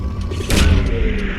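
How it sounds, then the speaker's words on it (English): Probe launch in the Mass Effect 2 video game: a single short, loud thump with a muffled boom rising in the middle of a brief low rumble. "Launching probe."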